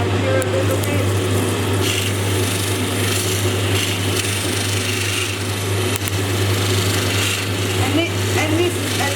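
An opal is shaped against a spinning grinding wheel, a steady motor hum with continuous gritty scraping and rasping as the stone moves across the wheel. Someone talks throughout.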